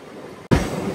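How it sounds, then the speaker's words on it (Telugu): A MEMU passenger train runs between Rajahmundry and Bhimavaram, its steady close rumble and rattle briefly cut off halfway, then returning louder and fuller. "మన ట్రైన్ ఇక్కడ డైవర్షన్ తీసుకుంటుంది"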